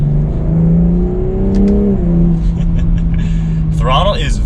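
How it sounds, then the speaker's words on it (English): A 2021 BMW M340i accelerating hard in third gear, heard from inside the car as a steady engine drone that rises in pitch, then eases off. A voice speaks briefly near the end. "We'll do another 3rd gear acceleration."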